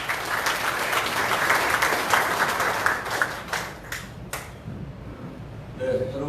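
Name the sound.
applause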